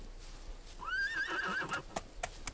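A horse in the survival game SCUM gives a single rising, wavering whinny lasting about a second over steady ambient game noise, followed by a couple of faint hoof clicks.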